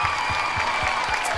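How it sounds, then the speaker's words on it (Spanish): Audience applause at an anniversary celebration concert for Río Gallegos, a steady wash of crowd clapping with recurring low thumps, continuous and fairly loud throughout. "¡Fuerte de aplauso!"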